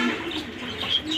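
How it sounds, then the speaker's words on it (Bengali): A pair of Australian doves, one red and one golden, make soft, low cooing calls that run continuously and close at hand, with faint higher chirps from other birds in the background and no talking. "এইখানে রয়েছে দর্শক এক জোড়া অস্ট্রেলিয়ান ঘুঘু।"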